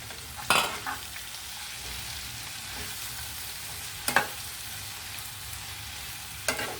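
Malabar spinach leaves tossed into a hot frying pan and stirred, a steady soft sizzle running throughout with three sharp scraping stir strokes near the start, middle and end.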